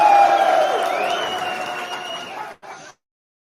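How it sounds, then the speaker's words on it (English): A short canned applause and cheering effect plays on a radio show, a dense burst of clapping with a whistle riding on top that fades over about three seconds before cutting off. "Give you a round of applause there."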